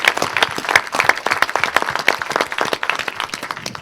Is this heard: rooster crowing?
no